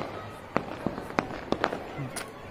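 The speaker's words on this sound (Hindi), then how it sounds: "आतिशबाजी होती हुई" Several firecracker pops burst out one after another at uneven intervals, sharp and fairly distant, in a Delhi neighbourhood at night, against a steady murmur of outdoor noise.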